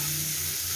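Ginger frying in a pan of cleaned oil already used for frying fish, a steady close sizzle with faint stirring for under a second.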